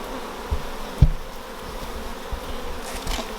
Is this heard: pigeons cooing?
no